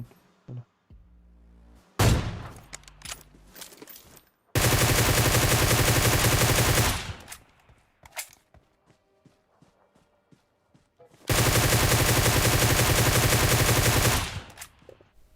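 Gunfire in the video game PUBG: a single sharp burst, then two long, loud sustained bursts of rapid automatic fire separated by quieter stretches with scattered shots and footsteps.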